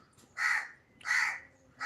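Crow cawing twice in a slow, even pair, two harsh calls about half a second apart, moderately near and alone against quiet background.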